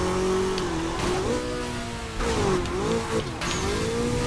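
Car engine revving and shifting in the racing game Burnout Paradise Remastered, pitch climbing and dropping through gear changes with bursts of tire noise, loud and continuous with no voices.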